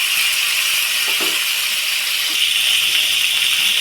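Chopped tomatoes go into a pan of roasting lentils for chutney, and a loud, steady hiss of sizzling fills the clip with a few soft clatters near the start.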